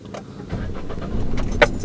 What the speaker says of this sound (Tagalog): Ipihit na natin ang ating susi. Yung huling pihit, yan yung engine start.